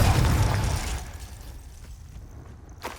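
A Confringo blasting spell explodes in the Hogwarts Legacy video game, a loud booming burst at the start that rumbles and fades over a few seconds, ending in a brief sharp crackle.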